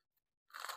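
Crisp crunching of dry fried crickets served with sambal, caught in the wild and cooked outdoors: a loud, dense burst of chewing that starts abruptly after a near-silent pause and continues steadily.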